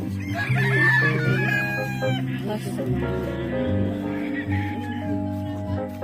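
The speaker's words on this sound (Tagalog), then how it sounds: "Dito yung mga manok na." Several chickens cluck busily close by at a chicken farm in Pangasinan while a rooster crows loudly, with overlapping calls and some background voices mixed in.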